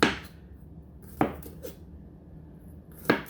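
A sharp chef knife chops guacamole ingredients on a cutting board, giving three or four separate crisp thunks spaced unevenly apart, close and clear with quiet between strikes.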